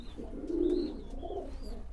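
Soft, low pigeon cooing close by, a couple of gentle rolling coos with faint chirps in the background.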